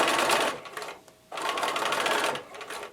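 Sewing machine stitching fabric strips for quilting, running in two close bursts of rapid mechanical whirring with a brief pause between them.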